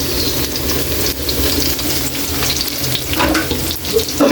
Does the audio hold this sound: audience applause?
no